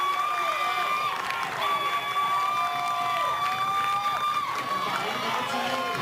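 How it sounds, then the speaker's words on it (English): A fired-up crowd at a Little League softball game cheers steadily in the background under continuous commentary, following a second-inning hit, with whistle-like tones and shouts rising above the roar. "You can hear the crowd. They are fired up."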